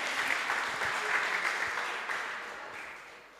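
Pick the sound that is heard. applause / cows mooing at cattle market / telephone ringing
applause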